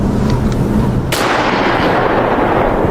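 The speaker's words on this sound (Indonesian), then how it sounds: "tiba-tiba terdengar suara tembakan lagi" A single loud gunshot cracks sharply, its boom echoing and decaying over a dense, noisy background.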